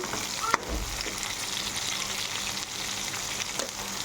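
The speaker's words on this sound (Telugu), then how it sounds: "చూడండి, ఆయిల్ వేసి వేయించడం వల్ల బాగా ముక్కలు అనేటివి చేదు లేకుండా పోతాయి కాకరకాయ ముక్కలు." Bitter gourd pieces fry in a generous amount of oil, a soft, continuous crackle and hiss at moderate distance with a couple of faint clinks from stirring, and no voices.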